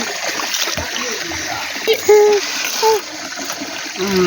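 Prawns being rinsed in water, light splashing and sloshing close by, mixed with someone talking and a voice in the background.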